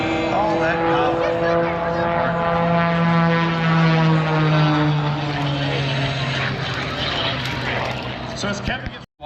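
A propeller airplane at the Dayton Air Show drones loudly and close with a steady, slowly shifting engine pitch. Talk runs over the sound throughout.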